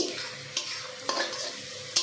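Carrots fry in a pan, a steady sizzle running throughout, broken by a few sharp scrapes and knocks of a spatula stirring them, close and clear with no talk.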